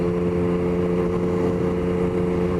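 A 2021 Yamaha MT-09 motorcycle on an evening ride, its engine holding a steady, loud, even drone at a constant speed throughout with no pauses or talking.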